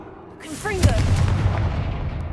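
Confringo fire spell blast in a Harry Potter video game: a short vocal cry is followed by a loud booming explosion with a rumbling, crackling tail that fades slowly.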